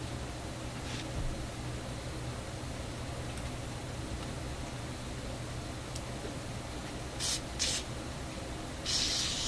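WD-40 is sprayed onto parts of a Traynor 8/201 analog mixer in short, close hissing bursts near the end: two quick squirts, then a longer one, over a steady faint background hiss.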